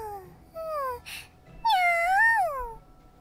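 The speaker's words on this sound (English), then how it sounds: "It seems like a nice kitty." A cat in the Super Neptunia RPG video game meows twice, a short rising-falling cry followed by a longer, louder wavering meow, with a brief soft rustle between them and no speech.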